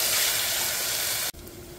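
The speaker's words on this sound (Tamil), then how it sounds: "தக்காளி ஆட் பண்ணிவிட்டு நல்லா 2த்தையும் வதக்குங்க" Tomatoes and onions sauté in a pan with an even, broad steamy hiss that runs steadily, then cuts abruptly to a quieter murmur near the end.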